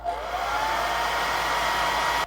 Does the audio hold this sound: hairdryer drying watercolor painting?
yes